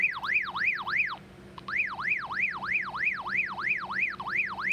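Bike alarm triggered by a sensitive piezo vibration sensor, wailing loudly and close in a fast repeating rise-and-fall siren tone that breaks off briefly and then resumes at the same sweeping pace.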